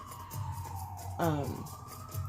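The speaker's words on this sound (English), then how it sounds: "Here goes the ambulance and the freaking siren." An ambulance siren wails faintly in the distance, its tone rising and falling, briefly swelling louder midway under a low steady background hum.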